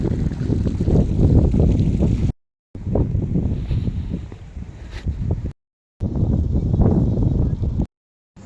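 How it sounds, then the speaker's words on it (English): Strong gusty wind buffets the microphone outdoors beside Katrinaholm Church in Sweden, a loud roaring rush that cuts out in brief silent gaps and then returns. "It's a bit windy as well."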